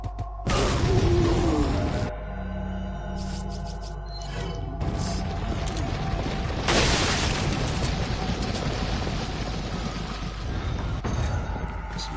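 A grenade blast in Resident Evil 4, a loud, dense boom at the start followed by a long roaring, rumbling tail and scattered clatter, all close and filling the space, with no voices.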